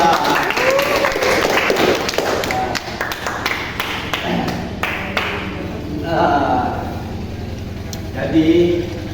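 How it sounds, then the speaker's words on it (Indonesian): Students in a classroom clap in a short burst of sharp, scattered hand claps and taps that thins out into quieter room noise, with people talking around it. "Oke, tepuk tangan untuk kamu semua."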